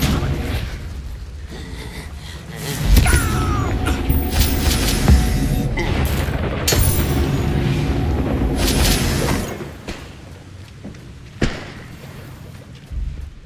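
Booming magical blasts from the Confringo spell in Hogwarts Legacy hit with heavy thuds and rumbling bursts, loud and close, amid game combat effects, then fade to quieter ambience.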